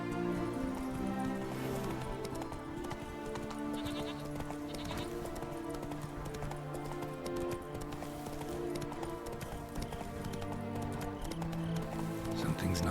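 The horse Roach gallops in The Witcher 3: Blood and Wine, with rhythmic hoofbeats running continuously under a layered game music score and ambient effects.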